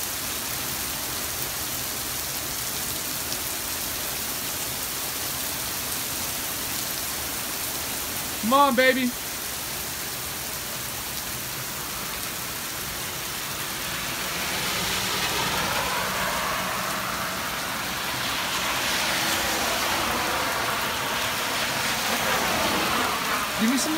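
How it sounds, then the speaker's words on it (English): Steady heavy summer rain hisses throughout at Big Bear Lake, California, swelling louder in the second half; a person briefly speaks partway through, and a low engine-like rumble sits underneath. "just look at all this rain"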